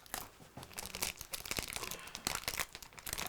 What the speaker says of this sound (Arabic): خشخشات أوراق الألومنيوم اللامعة التي تطوعها بأناملها